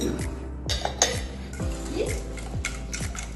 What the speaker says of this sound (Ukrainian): Змішуємо яйця, сметану, розпушувач